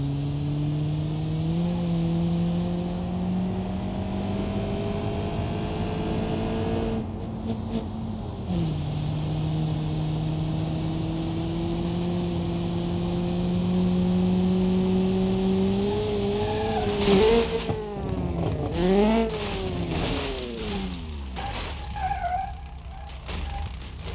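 Ibishu Pessima wagon engine in BeamNG.drive, revving through rising and falling pitches, holding steady drones between throttle blips, then ending in fast, choppy revving and clattering noises, up close with no talk.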